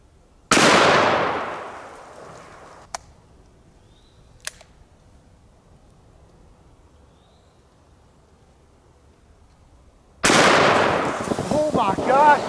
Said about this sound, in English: Let's finish it off with the 500 Smith & Wesson Magnum.